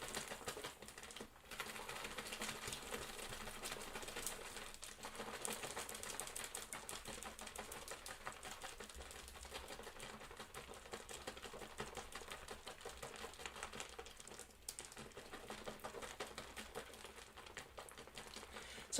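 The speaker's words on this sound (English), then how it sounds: "Zip the seal, give it a couple folds over so we don't make a mess, hopefully. And this is going to require a lot of shaking." A sealed freeze-dried military cold weather meal pouch is shaken for a long stretch, giving a faint, continuous rapid rattling and crinkling with a couple of short pauses.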